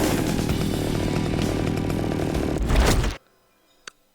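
A chainsaw in the video game Splatterhouse (2010) roars loud and steady for about three seconds, its engine buzz rising briefly before cutting off abruptly, followed by near silence and one short faint thump.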